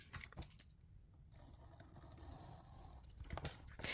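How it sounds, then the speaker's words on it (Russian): Crinkling and tearing of a Panini Spider-Man: Welcome to the Spider-Verse sticker packet being opened, close and quiet, with bursts of crisp rustling at the start and end around a calmer stretch. "Давайте откроем последний пакетик."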